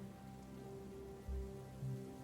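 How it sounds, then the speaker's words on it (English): Steady rain pours onto surfaces as an ambient effect in a tabletop RPG show, a continuous hiss with a faint low hum beneath and a couple of soft low thumps. "And the rain is falling as we go away from the warehouse"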